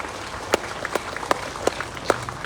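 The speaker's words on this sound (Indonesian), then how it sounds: "Tepuk tangan untuk TNI Polri." Scattered audience applause at an anniversary ceremony for Keerom regency, a few sharp distinct claps standing out over a thinner patter of hands, with a low voice murmuring beneath.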